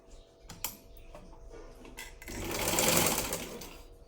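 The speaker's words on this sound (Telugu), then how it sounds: "ఇప్పుడు ఆయన్స్ అయితే కుడుతున్నాను" A sewing machine stitches the sleeves of a lined blouse. A few light taps and clicks come first, then a close, rapid mechanical run of stitching lasts about two seconds, with no talk.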